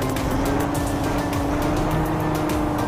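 Steady engine drone of a Lamborghini Aventador SVJ driven in the Car Parking mobile game, a continuous mid-level hum with a sustained low tone and no voices over it.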